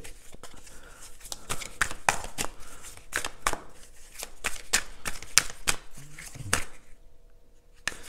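Tarot cards being shuffled by hand, a rapid run of crisp riffling flutters and slaps close by that thins out and stops toward the end.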